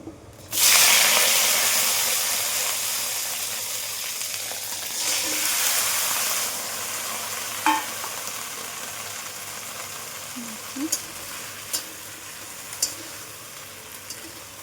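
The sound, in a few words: okra frying in pan with nigella seeds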